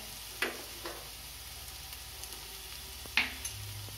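Garlic paste sizzles steadily in hot oil with fried potatoes, a soft continuous hiss close by, broken by a couple of sharp stirring clinks from a spoon.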